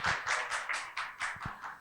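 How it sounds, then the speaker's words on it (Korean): An audience at an East Asian studies lecture claps to welcome the lecturer, Kim Ho, with a steady run of seven or eight evenly spaced, fairly soft clap bursts and no talking. "박수로 환영해 주십시오"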